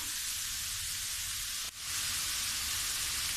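Grated carrots frying in ghee while being stirred for gajar ka halwa give a steady, dense sizzle throughout, broken only by a brief dip, with no talk.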